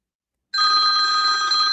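A telephone bell rings steadily and fairly loudly after about half a second of silence, a continuous electronic trill with no voices over it.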